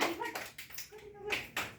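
Children at an anganwadi clap in short, uneven bursts for a classmate, close by, with a voice speaking between the claps.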